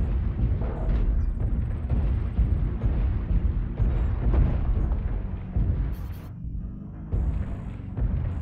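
Airstrike explosions in the MDD-A Mad Dog game rumble and boom in a heavy, rolling barrage, deep and sustained with a brief lull before more blasts resume.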